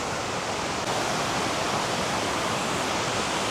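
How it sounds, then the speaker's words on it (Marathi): The Kondeshwar waterfall in Badlapur pours down from high above, producing a loud, unbroken roar of rushing water that fills the whole moment up close. "माझ्या मागे बघू शकतात हा पूर्ण वरतूनच हा धबधबा येतो आणि असा वाहत जातो"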